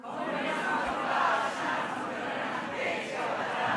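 A church congregation at a Sunday morning service roars a loud, sustained cheer on cue, a dense wall of many voices shouting together that holds steady for several seconds.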